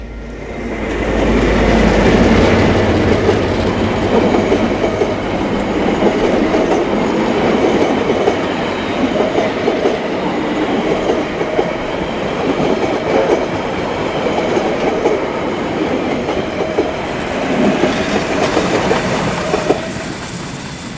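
A train rumbles past close by with steady clickety-clack from the wheels, loud and continuous throughout.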